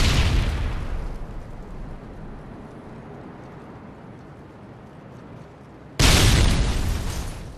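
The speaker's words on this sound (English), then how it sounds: "Tossing stun grenade!" A stun grenade goes off in the Terminal map of a video game, a loud broadband blast that decays into a rumbling tail before a second sharp burst hits near the end.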